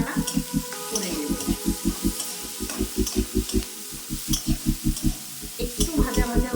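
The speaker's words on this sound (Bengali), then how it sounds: "অল্প করে কাটা পেঁয়াজ কুচি দিলাম। দিয়ে একটু নাড়াচাড়া করে" Chopped onion fries in a pan for a pumpkin and prawn curry, a spatula scraping and stirring in a quick regular rhythm of knocks over a steady sizzle, close and fairly loud.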